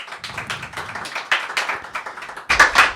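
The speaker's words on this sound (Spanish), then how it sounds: "Un fuerte aplauso para Raúl Rollo" Live audience at a Spanish comedy podcast recording clapping for a guest: a patter of scattered, uneven claps from a small crowd that swells into a louder, denser burst near the end.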